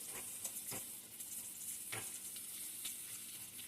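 Onions fry in a pan with a faint, steady sizzle, and a few soft scrapes come through as they are stirred.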